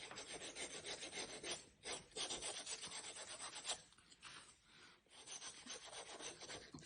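Sandpaper rubbing along the edges of a leather case for a titanium camping stove, a steady close rasping scrape in repeated strokes with brief pauses.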